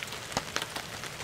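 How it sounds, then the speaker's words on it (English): Rain falls steadily in the woods, a dense soft patter on leaves and ground with a few closer, sharper drops standing out, no voices. "It's nice and rainy"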